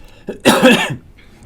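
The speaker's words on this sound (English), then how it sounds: "I have to cough." One hacking cough bursts out close to the microphone after a brief throat sound, then fades to near quiet.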